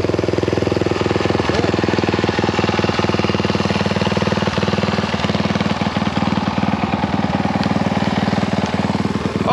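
A 1974 Honda XL175 dual-sport motorcycle engine idles steadily and loudly up close, a constant rapid thumping single-cylinder putter throughout.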